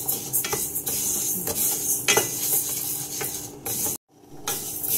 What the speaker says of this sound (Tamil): நான் வறுக்க ஆரம்பித்து 10 மினிட்ஸ் ஆகிடுச்சு